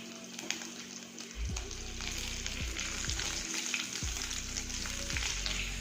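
Green chilies and seeds fry in hot oil, a steady close sizzle and crackle running throughout with a low repeating thump underneath.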